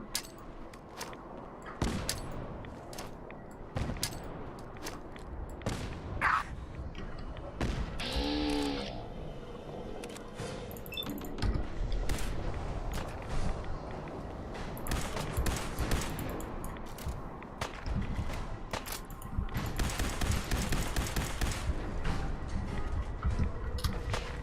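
Repeated explosions and bursts of gunfire in the video game Fallout 4 as grenades are thrown, irregular loud thumps and crackling blasts across a long, busy stretch of combat, with no speech.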